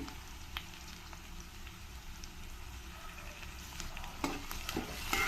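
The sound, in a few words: frying ginger garlic paste in a pan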